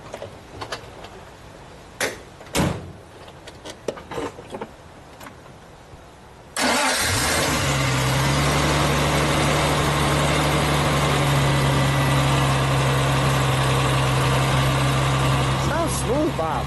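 A 1974 Triumph TR6 convertible in Carmine Red cranks over after a few faint knocks and thumps, then settles into a loud, steady, even idle that runs uninterrupted to the end.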